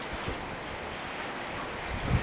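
Cold wind blows along an Arctic coast in late December during the polar night, a steady low rushing roar with faint surf-like texture and a brief gust buffeting near the end.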